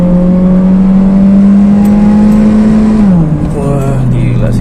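A Honda Jazz accelerates hard in S mode, its engine note climbing steadily before dropping as the transmission shifts, heard loud and close from inside the cabin.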